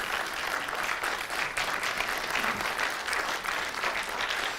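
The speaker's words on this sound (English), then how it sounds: "Let's give you a round of applause" Church congregation applauding mothers who stand on Mother's Day, a full, even wash of clapping from many hands that holds steady for several seconds with no talk over it.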